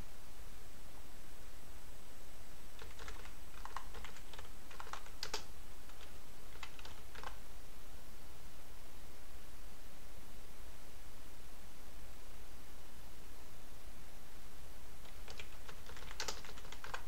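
Keys tapped on an Amstrad CPC computer keyboard come in short scattered clusters over a constant loud hiss, with long quiet stretches between bursts.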